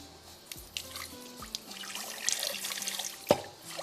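Water from a kitchen tap splashes and drips while eggplant soaked in salted water is rinsed, with a few clinks of a pot or utensil.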